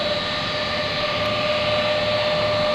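Steady, loud jet engine roar with a constant high whine, a C-5A Galaxy transport running on the runway and turning, continuous and close, no talking.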